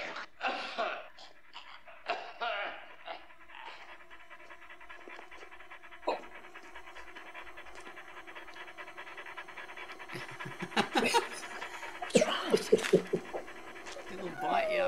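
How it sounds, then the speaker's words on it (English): Dog panting and whimpering in a horror film, a steady breathy pant running throughout with voices and rising film noise over it toward the end. "Sounds like a dog."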